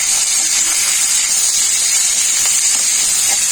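Vegetable peels fry in a hot wok with black cumin and garlic, giving a steady, loud, broadband hiss and sizzle that holds evenly throughout without pause.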